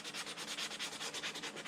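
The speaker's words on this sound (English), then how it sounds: "I'm mainly sanding off the little hard chunks of glue that squeeze through" Hard chunks of glue are sanded off the edge of a plastic model saucer from a 1:350 Polar Lights USS Enterprise kit, making a quiet, fast, rhythmic scratchy rubbing that goes on steadily with no talking.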